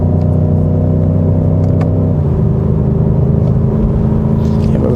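A BMW M5 Competition cruises slowly along a country road, heard from inside the cabin as a loud, steady, deep engine drone with a downshift in pitch midway.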